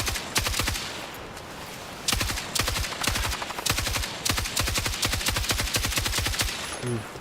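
Rapid automatic gunfire rattles in Battlefield 6, loud close bursts of fast repeated shots separated by brief pauses, continuing almost without a break.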